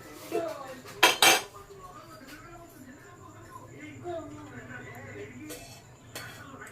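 A pan set down on a home kitchen stove, with a brief loud clatter of metal utensils and pans near the start, then quieter kitchen handling and faint talk in the background.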